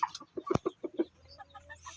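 Two large pullets cluck in a quick series of close, short clucks that trail off into quieter, faint sounds, with no voices.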